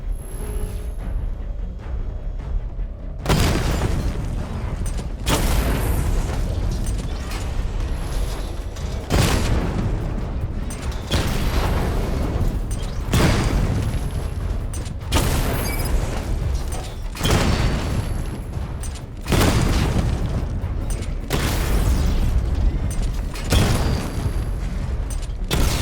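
Missile barrage explosions from the Batmobile in Batman Arkham Knight, a run of loud booming blasts arriving in repeated bursts every few seconds over a constant rumbling game soundscape.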